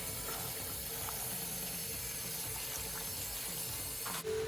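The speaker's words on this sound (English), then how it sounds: "I'm going to cover it with water and bring it to a boil." Water from a tap pours steadily into a pot of small bite-sized cauliflower pieces, a continuous rushing fill heard close and alone, ending with a faint clunk.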